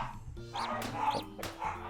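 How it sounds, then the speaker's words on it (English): Dogs barking in the background of a Clockwork Knight video game playthrough session, a few short yips and bow-wows at moderate distance mixed with game sounds and a faint voice. "the dogs are barking again"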